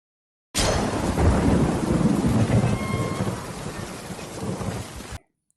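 Heavy rain pouring down with rolling thunder in a cartoon scene, a loud, sustained roar that starts abruptly, slowly eases, then cuts off.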